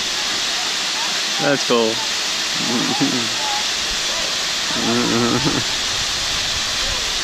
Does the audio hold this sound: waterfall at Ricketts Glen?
yes